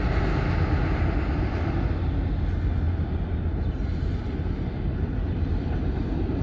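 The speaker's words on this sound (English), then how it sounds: "This is train after train after train after train" A long train rolls past right beside the railway track, a loud, close, steady rumble that continues without a break.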